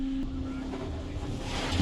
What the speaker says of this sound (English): Oh, Ben, it's gonna clean the van. It's spraying soap all over us.